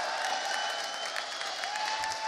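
A dense arena crowd at a CS:GO grand final in Dallas roars and applauds without pause, loud and continuous for the whole brief moment.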